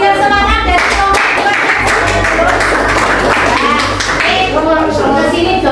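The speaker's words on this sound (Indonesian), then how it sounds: "tepuk tangan dulu biar semangat" A classroom group of students claps together in a steady, sustained patter, close and loud, with children's voices calling and talking over the clapping throughout.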